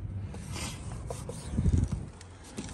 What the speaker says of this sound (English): Rub it in. Get that adhesive sticking.